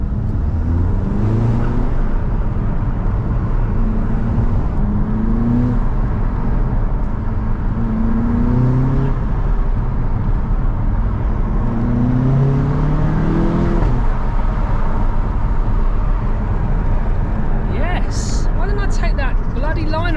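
An Audi TT engine runs while driving, its note rising and falling through repeated revs as someone talks over the steady road noise.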